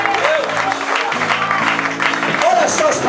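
A church congregation applauds continuously, a dense steady wash of many hands clapping at moderate loudness, with a voice and faint music running beneath.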